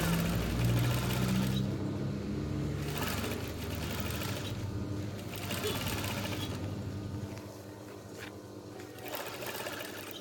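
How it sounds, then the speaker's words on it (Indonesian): A sewing machine stitches along a marked line on curtain fabric being made into a car front mat, with a steady, close rattling hum in bursts and brief pauses between runs. "Kita jahit bagian yang sudah digaris memakai pena tadi."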